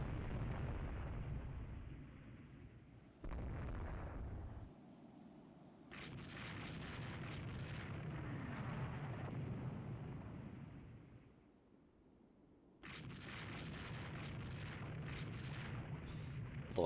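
Missile hits and explosions sinking heavy cruisers in the naval game Rule the Waves 3, a loud sustained roar of blasts in several bursts separated by short quieter gaps.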